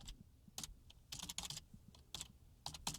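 Someone types on a computer keyboard, entering a file path in short bursts of quiet key clicks with brief pauses, faint and close.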